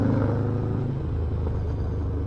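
A Harley stunt bike's engine runs with a steady, close low rumble and a slight clattery texture, alone with no talk.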